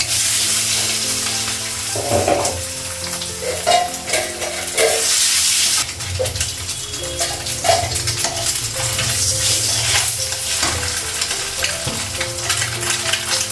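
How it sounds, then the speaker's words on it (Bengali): An egg fries in hot oil with turmeric: a continuous close, bright sizzle and crackle with occasional scraping stir sounds, steady throughout and with no voices. "তেল দিলাম, হলুদ দিলাম, ডিমটা লাগালাম।"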